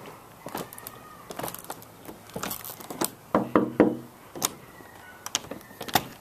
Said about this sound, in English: The door wouldn't open.